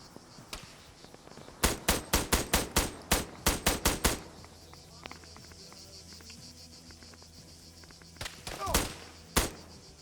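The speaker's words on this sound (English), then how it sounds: "The Charge is in a gunfight on his own over here." Gunfire in a video game gunfight: a loud rapid string of about ten sharp shots, then a quieter stretch with faint chirping ambience, followed by a few more loud shots near the end.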